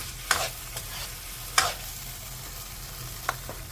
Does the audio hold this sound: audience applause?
no